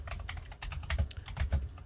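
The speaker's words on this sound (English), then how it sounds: "Sorry if I'm typing too loud." Rapid, close-up typing on a computer keyboard, a dense run of crisp key clacks with heavier thuds on some strokes, steady and fairly loud with no talk.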